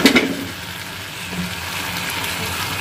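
Sliced potatoes, tomato and garlic cloves fry in a pan with a steady close sizzle and crackle after a brief clatter at the start, with no talking.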